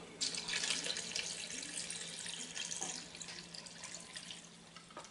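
Water runs from a kitchen tap into a multicooker pot of one-pot noodles with minced meat, a steady close hiss and splash that gradually softens toward the end.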